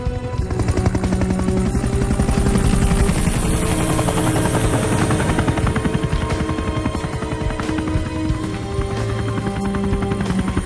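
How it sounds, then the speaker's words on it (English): A helicopter flies close by, its loud rotor a steady throbbing whir that holds for the whole stretch with no talking. "I didn't ask for a helicopter."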